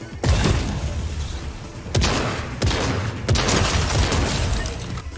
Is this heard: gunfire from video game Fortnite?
yes